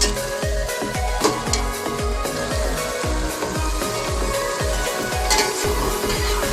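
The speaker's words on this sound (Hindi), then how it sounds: "चिकन को भुनने के साथ टमाटर डाल देते हैं" Marinated chicken and tomatoes fry in a pot. A loud, continuous sizzle runs under a quick, regular scraping of a spoon stirring against the pot, with occasional light metallic clinks.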